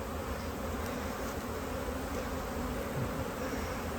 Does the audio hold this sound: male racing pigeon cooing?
no